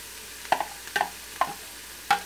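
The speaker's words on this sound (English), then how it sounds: "you can hear that nice sear that's going on with our hamburger" Hamburger meat sears in a Pampered Chef Quick Cooker, heard as a soft sizzle broken by four light scraping stirs, close and faint with no talking.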